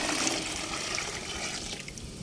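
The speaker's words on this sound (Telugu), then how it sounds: "వాటర్ అయితే ఇందులో యాడ్ చేస్తున్నాను" Rainwater pours steadily into plant pots on a terrace garden, a continuous splashing, gurgling rush close by without any talk.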